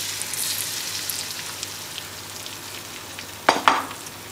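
Cracked eggs sizzle and fry in sliced sucuk (Turkish pepperoni) in a pan, a steady close crackle with a short louder burst of spattering near the end.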